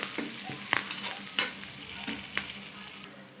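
Curry leaves fry in hot oil for egg manchurian, a steady close sizzle broken by a few sharp scrapes of a spoon stirring the pan.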